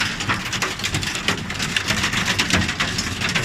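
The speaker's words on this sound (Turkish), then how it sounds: "Bak yerlerde dolular mı aşkım" Dense, crackling patter of hail pellets striking the ground around a campervan, steady and continuous like a heavy downpour, close and fairly loud.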